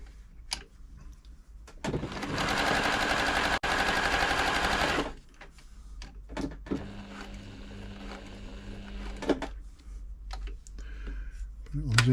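A Silver/Pfaff 1139 sewing machine, just repaired for tension problems, stitches zigzag in a fast loud rattling burst of about three seconds, then runs more quietly in short stretches amid handling clicks and some talk.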